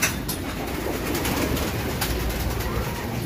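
Pigeons in a loft, mixed into a steady wash of background noise with faint bird calls; no clear individual coos stand out and no one speaks.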